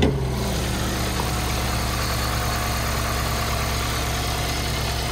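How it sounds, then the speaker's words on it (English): A 2007 Ford Escape with 178,000 miles idles with the hood open, a steady, quiet engine hum and faint whir heard up close and continuous, with no talk. "Pretty quiet engine."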